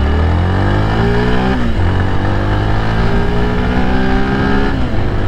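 A 2023 Yamaha FZ V4 motorcycle riding with traction control switched off, its engine droning loudly and continuously, pitch climbing through gears with brief drops at shifts, heard close and alone.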